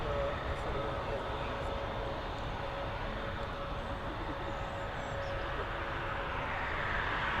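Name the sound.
Emirates Boeing 777 aircraft arriving from Dubai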